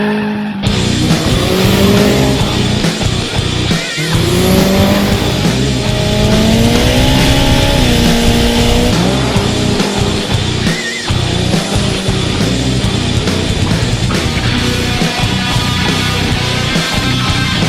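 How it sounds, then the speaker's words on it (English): A custom Honda S2000 with a turbocharged Inline Pro motor runs loud and close. The engine revs with rising and falling pitch sweeps, and tire squeal is heard over a continuous roar, with no voices. "we got a S2000, of course, turbo inline pro motor"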